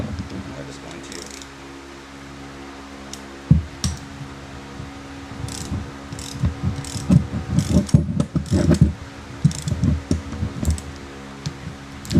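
A ratchet wrench with an adjustable head clicks in short, uneven bursts, tightening a bolt on the shifter of a K-swapped 8th-generation Honda Civic. It sounds close, with handling clatter, and a voice talks between the bursts.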